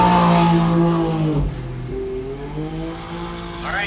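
UTVs race on a dirt track at an off-road event in Columbus, Montana, with engines droning loudly and steadily, pitch sliding down as one passes near and then rising again as it revs away.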